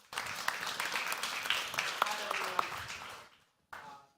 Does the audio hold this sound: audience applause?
yes